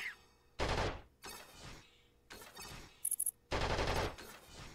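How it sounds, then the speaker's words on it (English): Rapid bursts of gunfire from the video game Flashback, several loud separate volleys with short gaps between them, plus a brief high electronic chirp in the middle. "It sounds like an actual gun."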